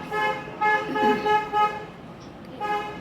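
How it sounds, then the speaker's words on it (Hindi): A car horn honks in several short blasts, loud and close, with a brief pause before a final toot. "कोई कोई जाता है तो ऐसे हॉर्न बजा के जाता है"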